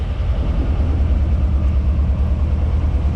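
An old MGB's engine runs steadily in a close, continuous low rumble, with no voices over it.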